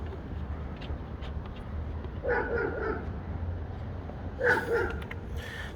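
A neighbors' dog barks in two short bursts a couple of seconds apart, fairly distant, over a steady low hum in a garage where a 2001 Chevy Impala is being worked on.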